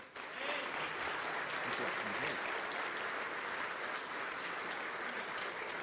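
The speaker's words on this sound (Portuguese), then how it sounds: "Vamos dar uma salva de palmas para Jesus?" A standing audience at a men's church gathering gives a round of applause for Jesus, a dense, steady wash of clapping lasting several seconds with faint voices beneath.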